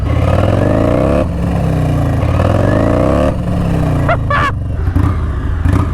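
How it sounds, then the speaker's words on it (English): A 220 bhp Harley-Davidson motorcycle launches off the line in a drag race, its loud engine climbing through rising revs with gear changes, heard close and dominant. "This is making 220 brake horsepower at the rear wheel and 200 foot-pound of torque, which is why it gets off the line"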